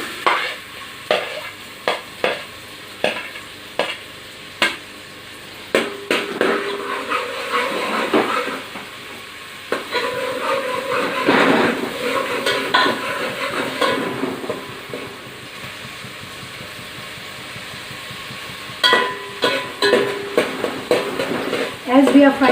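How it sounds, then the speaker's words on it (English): Onion sizzles in hot oil in a pan for a prawn curry, with a steady frying hiss broken by repeated stirring scrapes and clinks of a utensil against the pot. "As we are frying the onion,"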